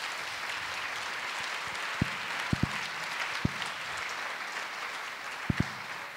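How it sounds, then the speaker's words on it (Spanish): A church congregation gives steady, fairly distant applause during a sermon, with a few sharp low thumps breaking through the even clapping. "dele un fuerte aplauso al Señor"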